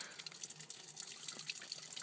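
Tap water runs from a faucet in a steady, faint hiss that stays even throughout, with no voices.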